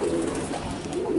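A kentong pigeon coos in low, throaty repeated calls at the start and end, fairly close, over a steady background hum.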